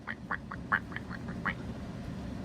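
A cartoon penguin imitates a duck's quack, giving a rapid series of about eight short, nasal quacks over a steady background hum, fairly close and moderately loud.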